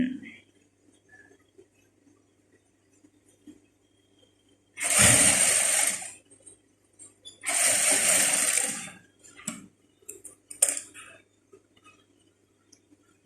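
A sewing machine stitching a dress runs in two steady bursts of about a second each, followed by a few short clicks and mechanical taps, close and alone.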